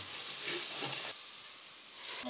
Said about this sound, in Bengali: টমেটোর যে লেইটা বানিয়েছি এই টমেটোর লেইটাকে এবার আমরা কড়াইয়ে দেবো।